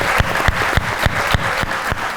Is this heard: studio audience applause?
yes